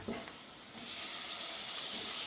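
Tomatoes going into a hot pan of spices for egg rice, a soft hiss that swells into a steady sizzle after a moment, close and fairly quiet with no voices.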